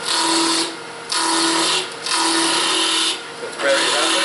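A turning tool cuts into a spinning wooden bowl on a lathe, giving a bright, close scraping hiss in three long strokes separated by short pauses.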